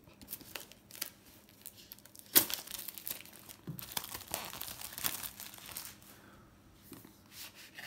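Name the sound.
cutting and crinkling polythene wrap on phone box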